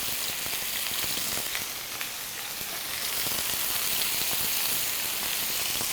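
Taro, seasoned with salt and pepper, sizzling in a hot pan, a steady dense crackle like light rain that holds fairly even throughout, close and alone with no voices.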